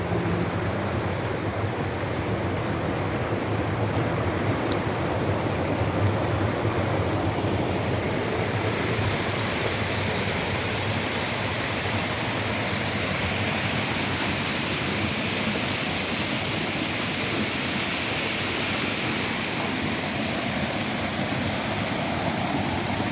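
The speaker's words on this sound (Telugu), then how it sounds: "అరకులోనే the most beautiful no pollution water falls ఇది." Chaparai waterfall in Araku rushes in a steady, loud broadband roar that stays close and constant throughout, with no voices.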